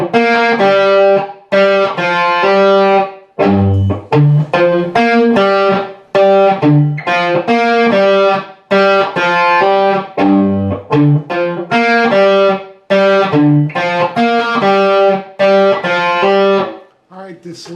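Distorted electric guitar plays a riff three times in a row, loud and up close, a choppy repeating pattern of chugging notes and sustained bends with brief gaps between passes.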